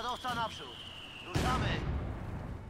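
Precision artillery lands in Company of Heroes 2 during the WWII Ardennes offensive near Stavelot. A short spoken line comes first, then one heavy, close blast hits and trails off into a long, rumbling roar.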